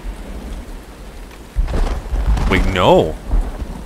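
Rain falls steadily in the video game Uru, a soft constant hiss, joined midway by a deep rumble of thunder while someone speaks briefly.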